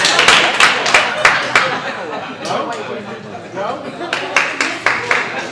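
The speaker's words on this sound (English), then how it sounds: "This table's clapping." Sparse, distinct handclaps come from a single table in a comedy club audience, close and crisp, pausing briefly under murmuring chatter and then resuming in a short run of claps.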